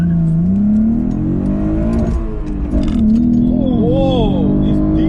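A Holden Commodore VF SV6 with its V6 engine revving hard under acceleration, heard from inside the cabin, the engine note climbing, dipping at a gear change and rising again, loud and continuous.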